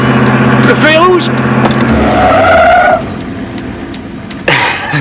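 A car brakes hard at a red light, its tires squealing in a loud, close skid that rises and then cuts off. A voice talks over the start, and a second sharp burst follows near the end.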